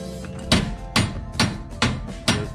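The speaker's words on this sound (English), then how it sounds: "give me a hammer" Hammer strikes on a Nissan G35's suspension during an Eibach spring install, five sharp metallic blows at a steady, roughly half-second rhythm, loud and close in a garage.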